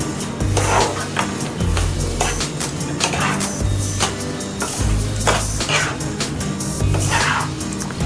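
Spoon scraping and clinking against a pan while semolina sheera is stirred, a repeated rhythmic scraping close up with metallic taps, steady and moderately loud throughout.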